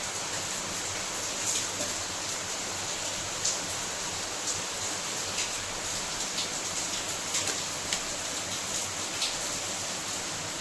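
Heavy rain pours steadily, a dense, even hiss with no pauses and no voices.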